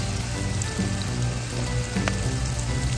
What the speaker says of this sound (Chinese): 然后再把葱花、蒜头、奶油丢下去， 然后炒到奶油融化为止。